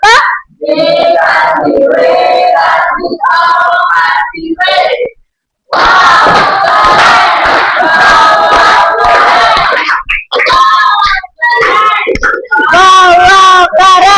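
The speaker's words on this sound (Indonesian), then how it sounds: "Kita beri tepuk tangan untuk kelompok 2" Pupils applaud and cheer for a presenting group in a classroom, loud shrill shouts and yells over scattered clapping in bursts, with one brief pause midway before the noisy crowd resumes.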